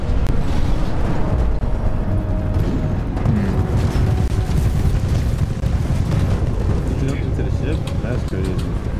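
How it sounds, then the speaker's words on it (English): Explosion in the video game Titanfall 2, a dense sustained rumbling roar that stays loud throughout, with a voice speaking over it. "I'm gonna explode this"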